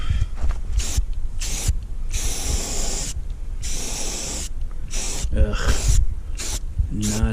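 An aerosol spray can sputters and hisses in uneven bursts while paint goes onto RV bath trim, up close with brief pauses between sprays and a short groan of frustration.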